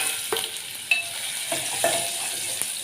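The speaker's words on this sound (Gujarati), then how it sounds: "એને આપણે તેલમાં થોડીક વાર ફેરવશું" Mango pieces turned in hot oil with tempered mustard seeds, cumin and asafoetida, a bright continuous sizzle with a few soft spatula scrapes, close and without talk.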